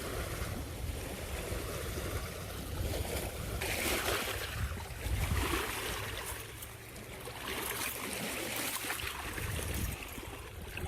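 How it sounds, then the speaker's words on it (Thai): Strong wind roars steadily outdoors on a lake during bass fishing in America, rising into louder gusts that surge and ease, mixed with faint water noise and no speech. "ตอนนี้ลมแรงมากเลย"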